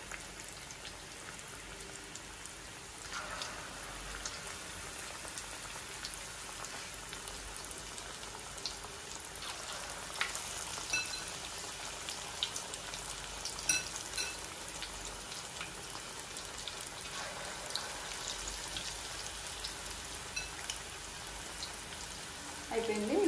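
Restaurant-style chicken lollipops deep fry in hot oil with a continuous soft crackling sizzle, quiet and steady throughout, with brief louder bubbling surges as the pieces shift.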